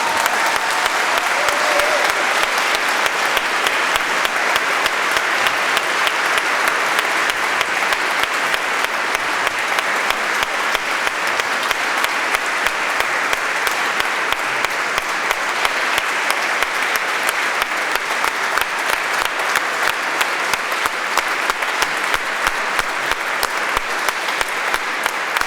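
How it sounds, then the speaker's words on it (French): Sustained, dense applause from a congregation at a Reformed church consecration service in Geneva, loud and even for the whole stretch with no pause. "c'est le moment d'applaudir"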